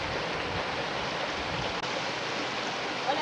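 Water rushing steadily at the Japuma reservoir dam in Pacajes province, a dense, continuous outdoor wash like a stream or spillway, loud and close, with no voices over it.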